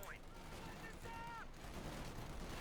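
Heavy .50 caliber machine gun fire in a Company of Heroes 2 battle, a dense, continuous crackle of rapid shots layered with loud battlefield noise and a few thin whistling tones throughout.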